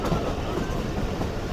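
Inside the Subak Raftar passenger railcar running past Shahdara Bagh junction station: a loud, constant rolling rumble with faint wheel clatter, heard close and alone.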